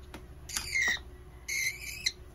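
A budgerigar at a veterinary examination gives two bursts of chirping, warbling calls, close and fairly loud, separated by a short pause.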